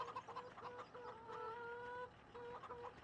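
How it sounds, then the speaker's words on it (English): Chickens cluck repeatedly in a farmyard in Farming Simulator 17, a busy overlapping chorus of short clucks and drawn-out calls at moderate volume with no talking. "There are the chickens."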